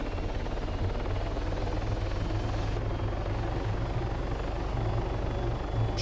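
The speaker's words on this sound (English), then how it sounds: "Got my helicopter." A military helicopter in the Arma 3 game, flying near the USS Forrestal, gives a loud, steady rotor thump and engine roar close by throughout.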